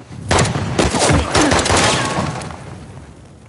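Loud bursts of automatic gunfire in Uncharted combat, several dense volleys with sharp booms, close and dominant before fading out.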